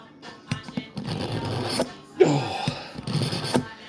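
A small one-piece knife is drawn across a sharpener in a few rough scraping strokes, close and fairly loud, with brief background noise between passes.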